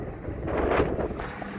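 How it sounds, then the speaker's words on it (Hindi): Strong wind buffets the microphone at an outdoor tap-ball street cricket match, a close, rumbling roar that swells and fades over a second and a half. "काफ़ी तेज़ हवाओं के चक्कर चल रहे हैं"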